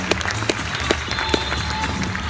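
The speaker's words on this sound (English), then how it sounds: "Give him a big, big round of applause this afternoon, Derby Arena." A crowd at Derby Arena claps and cheers, a brief busy burst of applause with scattered sharp claps over a loud, reverberant hall.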